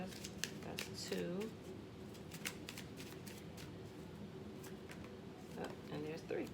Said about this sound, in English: Okay, so I'm gonna get three cards.